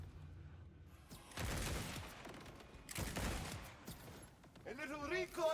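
Weapon fire bursts from the Back 4 Blood video game, shooting with a C4SH build: rapid gunfire volleys in two loud bursts around a second apart, then a wavering synthetic tone at the end.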